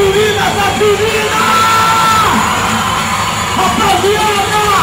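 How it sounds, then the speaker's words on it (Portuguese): Crowd at a live funk show in São Paulo, with dense, loud screaming and yelling from many voices and an MC shouting over the din throughout. "Eu quero ouvir o grito das meninas"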